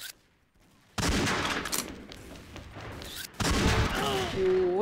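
Sniper rifle fire in the XSHOT deathmatch shooter: sudden loud blasts and a burst of gunfire layered over game sound, followed by a later shot with ringing tones trailing off.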